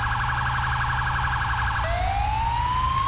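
Wailing emergency siren from a GTA V fire truck, loud and continuous, shifting from a fast warbling yelp into a slow rising wail over a steady low engine rumble.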